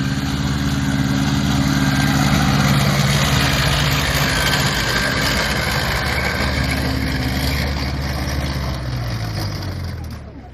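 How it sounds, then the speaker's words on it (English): A heavily armoured German WW2 half-track carrying weaponry drives into a field at a re-enactment event, its heavy engine droning loud and steady with a deep rumble before easing off and fading near the end. "First we see a German half-track coming into the field, heavily armoured and with weaponry aboard."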